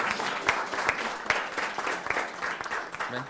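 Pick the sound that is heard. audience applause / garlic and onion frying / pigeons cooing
audience applause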